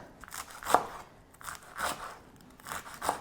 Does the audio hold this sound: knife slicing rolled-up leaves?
yes